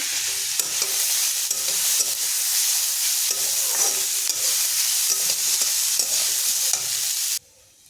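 Beetroot fries in oil in a pan while being stirred. A loud, close, continuous sizzle is broken by regular scraping stirs at roughly one-second intervals, then cuts off abruptly near the end. No one speaks.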